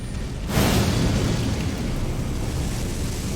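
The Anger of the Fell God spell in Elden Ring detonates in a sudden loud blast, followed by a long, rolling fiery roar that lingers without fading.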